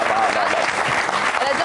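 Studio audience applause on the Algerian TV show "C'est à Nous", a steady dense clapping throughout, loud and close, with no voices over it.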